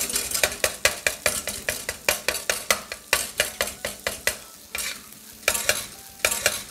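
Mutton with ghee is stirred briskly in a pan for a Bakra Eid dish, a quick run of sharp metallic spoon strikes and scrapes against the cookware over a soft sizzle, close up, with a brief pause partway through.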